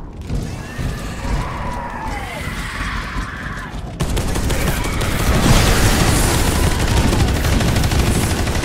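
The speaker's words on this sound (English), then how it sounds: "I'm just shooting from the flank with a shotgun right here." A shotgun fires repeatedly in Space Hulk Deathwing, loud close blasts amid chaotic combat noise and a dense roar of gunfire that swells in the second half, with screeching creature sounds mixed in.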